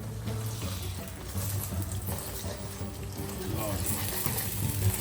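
Egg frying in a pan as part of Punjabi-style noodles, a steady close sizzle with soft liquid crackle throughout, building slightly louder toward the end, with no voices.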